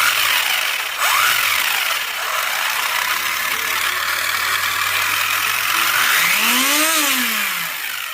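Rlaarlo AM-X12 RC car drivetrain running after final assembly, a loud, steady mechanical roar with a high motor whine that sweeps up and down as throttle changes.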